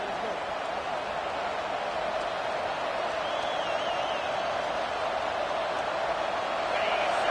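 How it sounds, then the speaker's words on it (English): Crowd at a college football game in a stadium, a dense, steady roar of massed voices, loud and continuous throughout, with commentary voices over it. "This crowd bringing the energy and noise early."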